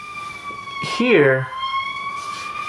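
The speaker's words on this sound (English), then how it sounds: "the ambulance is passing by" An ambulance siren passes by on a street, its steady wailing tone running throughout at moderate distance while a person speaks briefly over it.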